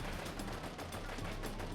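Rapid bursts of automatic gunfire crackle continuously during a bank shootout in Hollywood, dense and sharp, with no pauses between shots, sounding somewhat distant and muffled.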